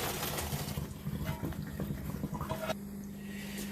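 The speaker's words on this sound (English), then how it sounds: "I'm going to go ahead and drain the pasta now" Hot pasta water for a tuna casserole is poured off to drain, a steady close gushing and splashing that trickles and then cuts off near the end, with no talk.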